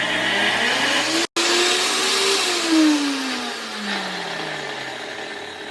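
A blender whirs steadily while crushing graham cracker crumbs with sugar, a loud close motor drone that stops for a moment and restarts, its pitch rising and then slowly falling as the load changes.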